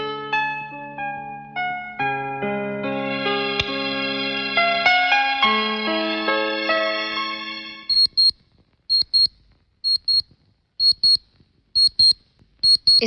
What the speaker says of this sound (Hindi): इस घड़ी की आवाज सुन रहे हो?